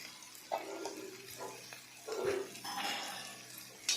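Goroi fish fry with onion and ginger frying in a pan, soft sizzling broken by a few scraping stirs and light clinks, close and moderately quiet.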